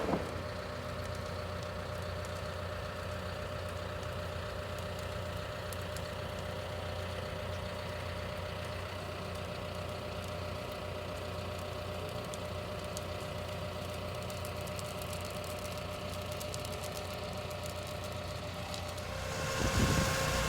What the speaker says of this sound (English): We're running the skid steer there.